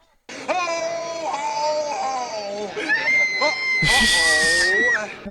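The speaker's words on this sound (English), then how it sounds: "Kid who wants to go on and on about everything he likes screams as soon as he sees Santa Claus." A child in the film A Christmas Story screams and wails at Santa Claus, a loud, close, sustained cry that rises into a shrill peak, with other voices briefly mixed in.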